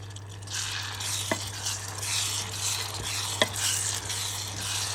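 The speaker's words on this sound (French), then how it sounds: "il ne faut pas oublier de mélanger régulièrement" A thickening pear cake mixture is stirred in a pan over very low heat, giving a soft, steady bubbling and sizzling hiss with occasional light taps of the spoon over a low constant hum.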